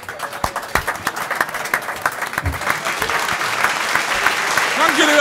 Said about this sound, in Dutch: Geef ze eens een warm Haags applaus.